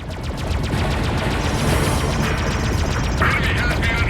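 Rapid gunfire in a space dogfight in the video game Freelancer, with continuous automatic bursts, crashing impacts and mechanical clatter filling the whole stretch at steady loudness.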